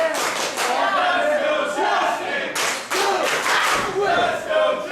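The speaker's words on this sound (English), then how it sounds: "Man, this crowd is really behind Jessie K." A crowd at a female wrestling brawl cheers and claps loudly, with shouts and bursts of clapping in two surging waves close by and no talk over it.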